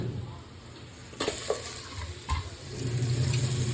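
Goat trotters drop into a pan of browned ginger and garlic, with a couple of dull thuds and scraping stirs, then a fuller, louder sizzle that builds toward the end.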